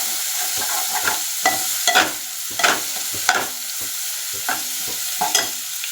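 Ground masala paste being stir-fried on a low flame, a soft background sizzle broken by about ten short, sharp scraping strokes of a spatula in an irregular rhythm, close up and alone.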